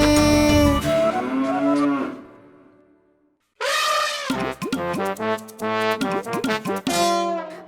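A cow moos in a long, deep, drawn-out call that fades out, followed by a series of shorter, bright, tonal calls that may be a voice or an instrument imitating the sound.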